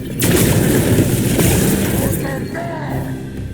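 Heavy booming gatling cannon fire in Dragon Age: The Veilguard, with dense rumbling blasts and battle noise continuing throughout, loud and close.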